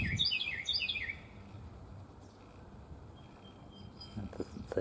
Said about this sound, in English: Bird's noisy.